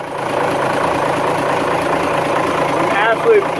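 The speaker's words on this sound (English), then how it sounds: "Absolutely beautiful motor." Lehman 120 diesel marine engine idling aboard a Marine Trader 34 trawler, a loud steady rumbling drone that runs throughout.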